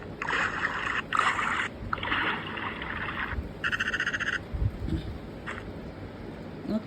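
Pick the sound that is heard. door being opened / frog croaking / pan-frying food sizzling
frog croaking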